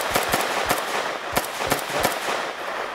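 Sharp gunshots crack in quick irregular bursts, several rapid pops overlapping like an exchange of fire in front of a shop in GTA MTA roleplay, with no talking.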